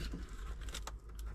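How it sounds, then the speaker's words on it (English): Hard rain falls on a dairy farm as a dense, continuous patter, a steady hiss that stays fairly faint and even with no other sounds standing out. "it's raining pretty hard"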